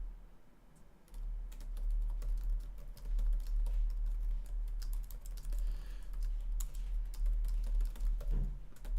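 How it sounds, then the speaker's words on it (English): Rapid, continuous typing on a computer keyboard, a dense patter of close keystrokes running throughout with a steady low hum underneath and no talking. "Fast typing here."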